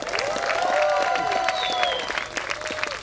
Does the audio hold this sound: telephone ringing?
no